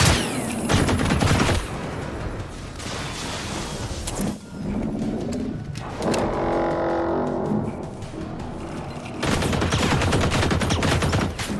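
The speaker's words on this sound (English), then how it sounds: "there's a wall here too that he's just shooting through" An enemy fires in the video game Generation Zero, with loud rapid bursts of automatic gunfire in the opening and closing seconds and a lower mechanical rumble between, all dense and close with no talking.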